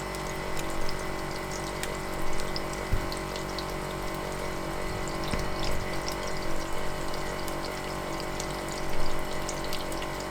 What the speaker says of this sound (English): While they're frying on one side,